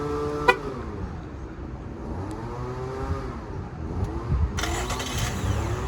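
A 2018 Holden Calais Tourer starting up by remote start, with a sharp chirp followed by the engine turning over and settling into a steady idle, heard close by, with no talking.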